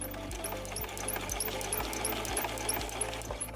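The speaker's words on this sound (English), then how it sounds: "then just keep sewing down along this side." A sewing machine stitches a fabric coaster in short bursts, giving a rhythmic mechanical whir with regular clicks roughly every half second. The sound is close and moderately loud, with no voices.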